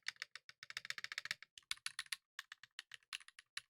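Rapid clacking of a hefty, hollow-sounding mechanical keyboard, bursts of keystrokes with brief pauses and a heavier spacebar thock, close and fairly quiet.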